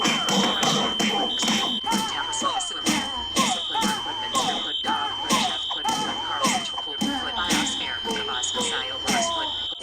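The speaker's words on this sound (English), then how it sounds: "I heard the fire alarm going off" A fire alarm at a Chuck E. Cheese's restaurant sounds loudly and continuously, a high piercing tone with a regular pulsing horn beneath it, while people talk over it throughout.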